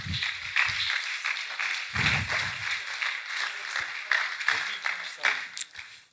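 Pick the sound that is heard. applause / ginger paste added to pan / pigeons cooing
applause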